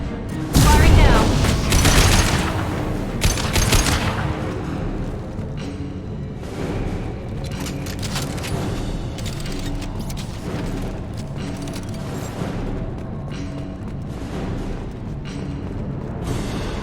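A heavy weapon fires in Mass Effect 2, a loud booming blast followed by a sustained roaring, rumbling barrage of impacts that stays dense and close throughout.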